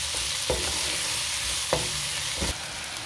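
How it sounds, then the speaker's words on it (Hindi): Onion, ginger and garlic fry in a pot for a fish gravy, a steady loud sizzle broken by a few sharp scrapes of a spoon stirring, with no voices. "और इनको भी प्याजों के साथ अच्छी तरीके से भून लेंगे।"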